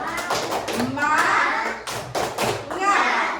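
Schoolchildren in a class perform the tepuk semangat chant, loud rhythmic bursts of hand clapping mixed with their chanted voices, near and lively, with a pause partway through before the clapping resumes.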